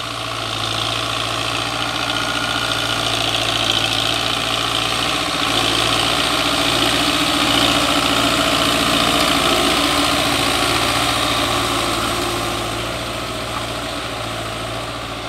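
A heavy Belarus 820 tractor engine idles with a constant low rumble and steady vibration, holding evenly throughout with no voices.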